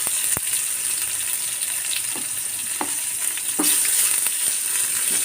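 A tempering of spices and onion poured into chickpea curry sizzles steadily, a bright continuous hiss with a few soft pops and clinks, close and without talk.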